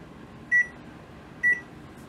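A kitchen timer being set for 20 minutes while seitan simmers on the stove gives two short, high electronic beeps about a second apart over a low, steady background hiss.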